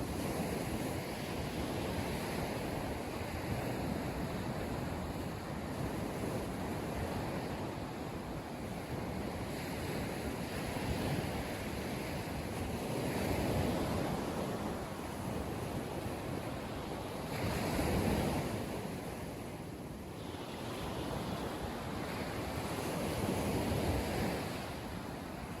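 Sea waves wash steadily by a lighthouse at the city's edge, a continuous close roar of surf with gentle swells and wind buffeting, no voices.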